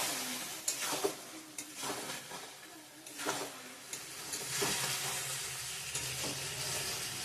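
Chicken curry with potatoes being stir-fried in a pan, a continuous sizzle broken by repeated scraping strokes of a spatula at an uneven rhythm, close and moderately loud.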